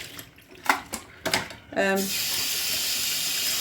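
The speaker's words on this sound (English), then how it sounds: "so do a good wash and rinse" A pork roast is washed under a running kitchen tap: a few brief knocks and clatters are followed by a steady, loud stream of water splashing into the sink.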